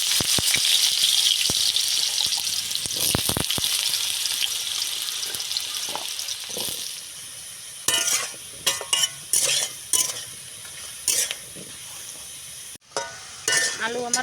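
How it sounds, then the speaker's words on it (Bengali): Washed, cut potatoes frying in hot oil in a pan for a soy chunk curry, with a loud steady sizzle at first, then quieter frying broken by bursts of stirring and scraping. "এখন আলুটাকে আমি ভালো করে ভেজে নেব।"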